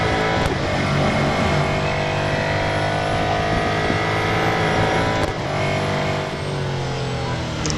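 A Real Racing 3 video game touring car engine drones loudly and steadily, holding a high whining pitch with a couple of brief shifts, no voices over it.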